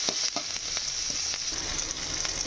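Mustard seeds, green chilies and onions fry in hot oil with a continuous crackling sizzle, broken by soft scraping taps of stirring.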